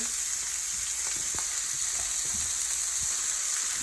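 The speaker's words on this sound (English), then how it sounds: "Going to saute the green pepper" Green pepper sautéing in a pan gives a steady, close hiss of frying with scattered soft taps and stirring clicks underneath, continuous and unbroken, with no talk over it.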